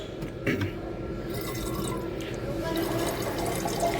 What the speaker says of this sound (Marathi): वॉटर बॉटल्स भरून घेऊया आपण आता.